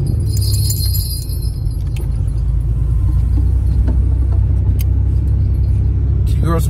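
A car is driven along a road with a continuous low rumble of engine and tyres close by, while small metallic jingles like keys rattle intermittently inside the cabin throughout.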